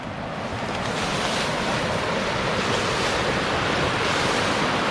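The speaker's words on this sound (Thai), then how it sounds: "อู้อู้น้ำตกครับสุดยอด" Rushing water from a waterfall by a river in Khon Kaen, a loud, dense and continuous roar close by with no breaks and no voices.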